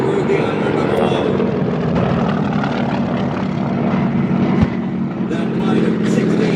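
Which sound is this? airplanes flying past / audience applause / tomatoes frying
airplanes flying past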